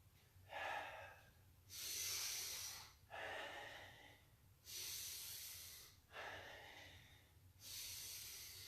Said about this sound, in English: Inhale. Focusing on the breath,